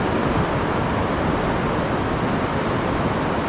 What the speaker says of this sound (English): I'm shouting because of the roar, you know, from the sea.